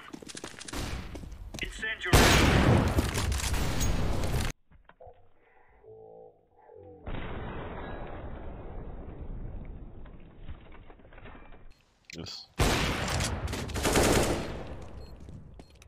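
Rapid gunfire bursts in the shooter game CS:GO during a professional match, loud sustained volleys broken by brief pauses, with an excited commentator talking over and between the shots.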